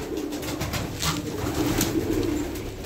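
Fancy pigeons, including embroidered and olive-coloured flight breeds, coo softly and steadily in a loft, with low murmuring calls repeating continuously over background noise and no voices.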